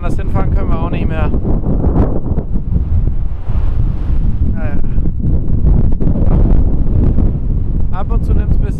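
Strong gusts of winter wind buffet a camper van parked in the Netherlands, a loud, roaring rumble that swells and eases without stopping while people talk over it.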